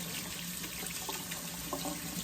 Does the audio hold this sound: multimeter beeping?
no